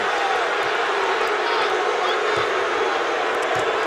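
A home crowd at a Louisville Cardinals versus NC State college basketball game roars in displeasure after a foul, a continuous loud wash of many voices with scattered shouts and no pause.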